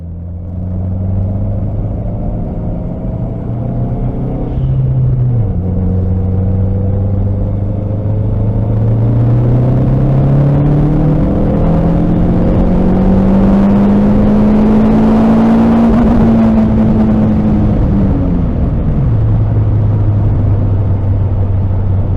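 A tuned Saab, fixed after a heavy oil leak, accelerates hard on a test drive, its engine droning loud and close as the pitch climbs steadily through the gears before dropping back near the end.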